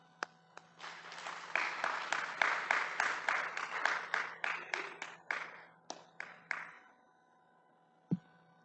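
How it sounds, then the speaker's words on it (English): An audience applauds after a talk at a Sunday feast gathering. The clapping swells quickly into a dense, lively patter, then thins into scattered claps and dies away, with a single sharp knock at the end. "By an applause, dear devotees."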